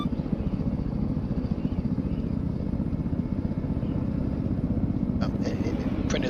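A steady, loud vehicle engine drone with rushing wind fills an ARMA 3 game scene, a rapid pulsing throb running throughout, with a brief clatter near the end.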